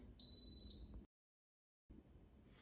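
An Instant Pot signals it has finished cooking frozen meatballs with a single short, high electronic beep in a quiet kitchen, followed by low background noise, a gap of silence, then faint room sound.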